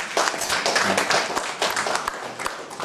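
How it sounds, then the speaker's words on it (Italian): Applause from a conference audience on the Amalfi Coast, a moderate crowd of distinct, fairly close hand claps in an uneven patter, steady for several seconds. "Un applauso, grazie."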